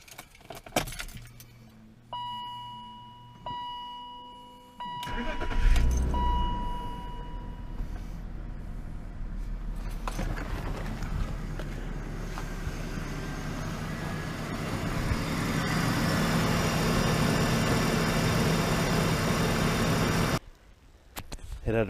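A 2002 BMW 525i sedan runs steadily after alternator and front brake work, its engine a continuous mid-level hum. Metallic key jangling and clunks come first, then the engine settles into a long, even drone until a brief cut near the end.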